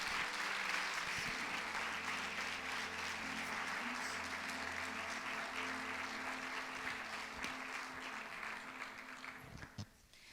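A church congregation at a family gathering gives sustained, steady applause that fills the room at a moderate distance and then tapers off quickly at the very end.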